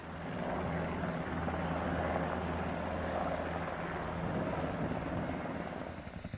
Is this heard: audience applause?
no